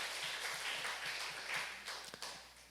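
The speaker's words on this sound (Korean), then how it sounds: "우리 박수 한번 주시기 바랍니다." A church congregation claps during a Sunday worship service, a soft, fairly quiet patter of hands with a few sharper individual claps toward the end.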